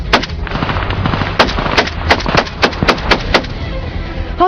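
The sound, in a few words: gunfire during ceasefire violation at the front line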